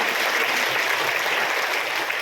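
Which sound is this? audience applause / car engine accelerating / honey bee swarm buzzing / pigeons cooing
audience applause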